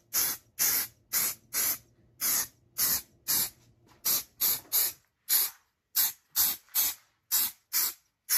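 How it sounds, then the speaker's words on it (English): A second coat of spray goes onto a Chewbacca mask mold in a run of short, loud hissing bursts, each about a third of a second, repeated in a fairly even rhythm with brief gaps and no talking. "I'm going to go ahead and spray a second round on it."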